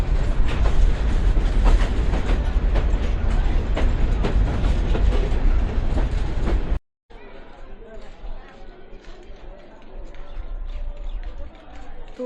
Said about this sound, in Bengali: তো আমাদের ট্রেনটা হচ্ছে রংপুর থেকে এখন ছাড়লো